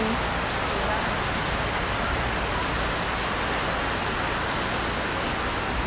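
Steady rain pours down at an outdoor festival in Fukuoka, Japan, a dense, even hiss of falling water with no breaks, moderately loud throughout.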